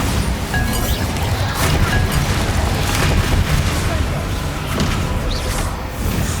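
A Bombarda spell explosion in the video game Hogwarts Legacy sounds among dense, busy game effects, with muffled booms, crashes and clinks layered over continuous rumbling action, and no clear gaps.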